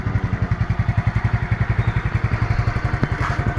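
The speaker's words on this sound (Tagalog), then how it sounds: "pinandar ko na siya, may ito yung makina niya" A Yamaha Mio Sporty scooter engine, started after sitting unused for nearly a week, runs close by with a steady, rapid, rhythmic putter and a faint clatter, and no one speaks.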